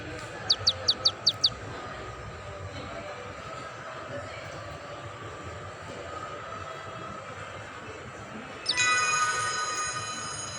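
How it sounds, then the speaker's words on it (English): Pet finch chirping indoors, a quick burst of five sharp tweets at the start over steady background noise, with a brighter burst of bird calls near the end. "Okay, my Finch bird."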